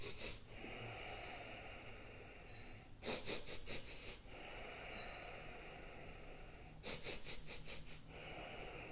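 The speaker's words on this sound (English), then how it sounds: "They're like little sniffs through the nose and one long exhale through the nose." Yoga breathing comes through faintly: bursts of short, quick nasal sniffs, each run followed by a long, soft exhale through the nose, the pattern repeating twice with no talking.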